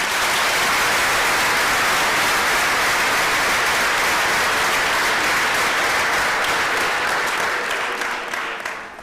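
Sustained applause from a large congregation at a church jubilee event in Kibeho, Rwanda, loud and steady throughout before tapering slightly at the end.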